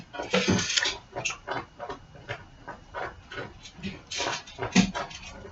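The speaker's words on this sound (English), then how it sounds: "My dog is scratching the carpet." A dog scratches at carpet indoors, giving repeated short rough scraping bursts in an irregular rhythm, fairly close and moderately loud, with no talking.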